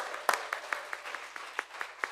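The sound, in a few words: audience applause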